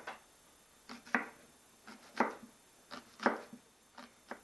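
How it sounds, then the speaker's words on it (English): Knife slicing a bunch of green onions thinly on a cutting board: crisp, close chopping taps come in quick pairs and small clusters with short gaps between, clear and alone. "all I'm going to do now is just cut off the stem end and slice them thinly, an entire bunch."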